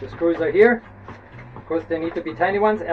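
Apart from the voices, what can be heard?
No everyday noise stands out behind the speech.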